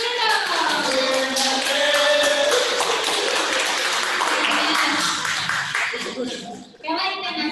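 Scattered clapping from participants in an online Zoom school meeting for a high school, broadband and steady for several seconds, with children's voices and chatter mixed in over the top.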